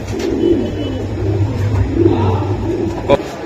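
Pigeons sold in pairs at a market give low, repeated throaty coos, close and fairly loud, with a brief sharper sound near the end.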